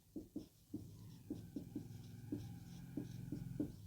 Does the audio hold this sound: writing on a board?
yes